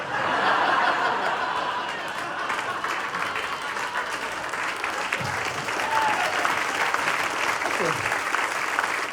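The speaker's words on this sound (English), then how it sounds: "you can clap anytime you want" Audience applause at a standup comedy show, sustained clapping throughout with scattered chuckles and laughter from the crowd, while a performer's voice comes through over it.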